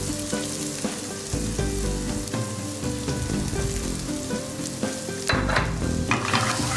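Sliced onions sizzle in olive oil in a hot pan in a restaurant kitchen, a continuous crackling fry heard under music.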